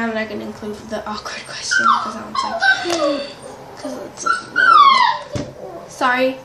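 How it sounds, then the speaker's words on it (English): A pet dog whimpers and yips in rising, talk-like whines, several drawn-out cries scattered through the stretch, close and clear, while a person speaks over and between them. "that's my dog. He likes to, he pretends like he's talking."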